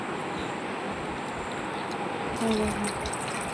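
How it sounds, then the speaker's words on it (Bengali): Running tap water splashes over hands being washed at a home sink, a steady close hiss that briefly grows louder and fuller near the end. "হাতটা ধুয়ে নিলাম, হাত ধোয়া কমপ্লিট।"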